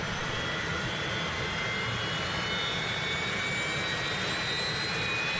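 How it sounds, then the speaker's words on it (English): A Viper single-spool turbojet engine runs with a steady, loud roar and a high whine that slowly rises, continuous throughout with no talking. "is a compact single-spool turbojet engine widely used in early jet trainers and light aircraft."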